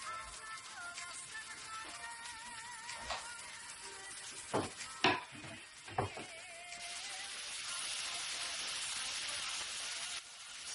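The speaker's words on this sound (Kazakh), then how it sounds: "Май қатты ысыған кезде жаңағы бүйрегімізді салып пісіреміз." Kidneys dropped into hot oil in a kazan, a few soft clinks and knocks, then a steady, close sizzling hiss that continues to the end.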